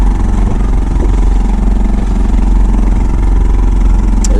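A 2 hp outboard motor on a 12-foot kayak drones loud and close during a fishing trip off Chaguramas, a steady throbbing putter that never changes pitch.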